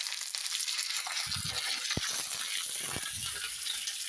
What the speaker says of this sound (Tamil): கடுகு பொரிஞ்சு வந்துருச்சு. இப்போ கருவேப்பிலையை போட்டு